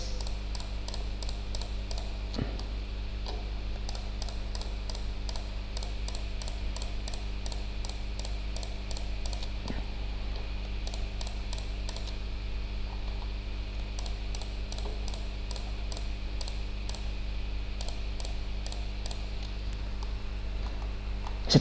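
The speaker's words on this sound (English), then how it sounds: "Shift again, click, click, click, click, click." Rapid computer mouse clicks while modelling a ball in 3D software, arriving in quick bursts of several clicks separated by pauses, faint over a steady electrical hum with no talking.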